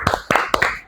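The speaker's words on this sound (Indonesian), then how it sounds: "Yuk kita beri tepuk bersama-sama yuk." Three short claps from a primary-school class in Indonesia, sharp and close, evenly spaced within a second with no talk over them.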